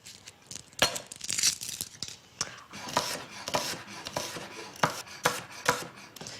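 Knife chopping a red onion on a board, with irregular sharp close taps in quick bursts and some crisp rustling between the cuts.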